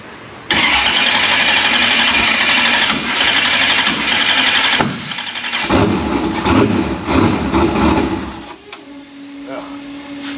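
The Murder Nova race car engine cranks and fires abruptly into a loud, harsh, lumpy running roar, with throttle surges, then drops to a rough idle near the end.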